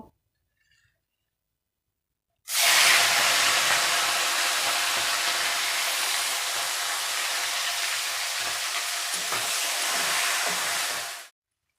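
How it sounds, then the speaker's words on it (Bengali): Prawns frying in hot white oil for a Bengali kochu loti and prawn dish: after a quiet moment, a sudden loud, steady sizzle bursts in and holds for about nine seconds before cutting off. "তেলটা গরম হয়ে গেছে। এবার আমি চিংড়ি মাছগুলো ভেজে নেব।"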